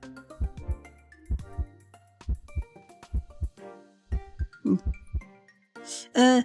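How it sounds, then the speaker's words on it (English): Heartbeat sounds in an itch.io video game: soft, low double thumps repeat at a steady pace among tonal game music and chimes, ending with a louder tone burst. "I just get something that makes heartbeat sounds."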